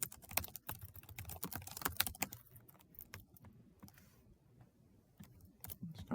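Someone types on a computer keyboard during survey data entry, with quick irregular clusters of clicking keys, close but fairly quiet, then a short pause before a few more taps.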